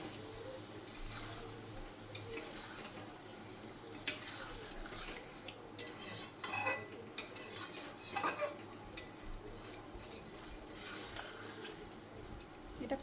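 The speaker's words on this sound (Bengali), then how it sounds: "এবার এটাকে কষিয়ে যাব ভালো মতন" Potatoes being stirred and sautéed with spices in a pan, a spoon scraping and clinking against the metal in irregular bursts, faint and close over a low kitchen hum with soft water-like background noise.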